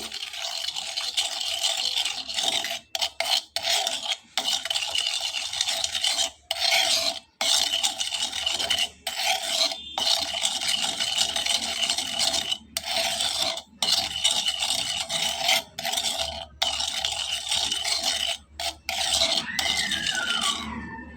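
A spoon scrapes and rubs round a bowl as spice paste is mixed with a spoonful of sugar, a steady gritty rasping broken by short pauses, close and alone.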